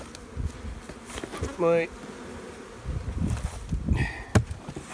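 Honeybees buzz steadily around an open beehive in a backyard, with a louder close pass or two, while a person speaks briefly and handles the hive boxes nearby.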